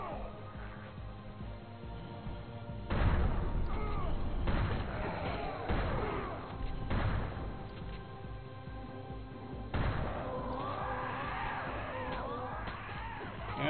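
Repeated heavy shotgun blasts from the first-person shooter Turok 2: Seeds of Evil, several booming shots between about 3 and 10 seconds over constant game ambience and music.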